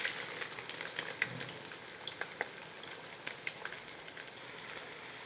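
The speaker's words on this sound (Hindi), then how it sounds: "प्याज को लाइट ब्राउन होने तक अच्छे से फ्राई कर लेंगे" Finely chopped onions fry in oil with roasted cumin, giving a soft, even crackling sizzle with scattered small pops, fairly faint and steady throughout, no voices.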